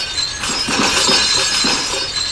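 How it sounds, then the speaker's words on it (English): Glass window shattering in a video game, a loud, bright crash that breaks into a sustained tinkling spray of falling shards, with no talking. "Got some more glass. Smash through that real quick."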